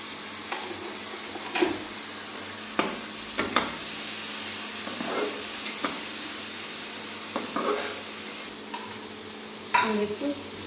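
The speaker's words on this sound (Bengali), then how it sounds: "এখন মশলাটা কষাবার জন্য দেবো একটু জল।" Spice paste for country chicken curry sizzles steadily in a pan after a splash of water, with intermittent stirring scrapes and spoon knocks over the hiss, close and moderately loud.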